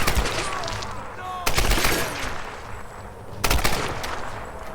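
Firearm gunfire in the Tomb Raider video game: two sharp, loud bursts a couple of seconds apart over a rumbling, noisy game background, with no voice during the shots.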